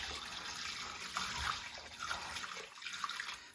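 Water poured in a steady splashing stream into a large batch of rye bread dough, fairly close and continuous with small gurgles.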